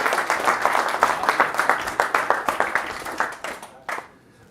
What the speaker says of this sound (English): will you round of applause for Stephen?